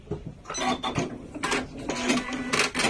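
A Janome sewing machine's automatic thread cutter whirs and clicks through a short series of close mechanical movements.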